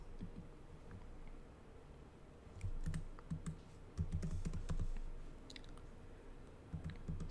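Computer keyboard typing a SQL query, with quiet irregular key clicks in short bursts over a steady low background hum, no voices.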